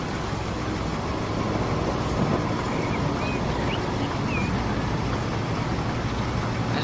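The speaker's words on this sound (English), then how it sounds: "Oh, it's a recycling train." Recycling train passing in the Transport Fever railway simulation game, a continuous broad rumble and rolling rail noise at steady loudness, with faint squeals above it and no speech.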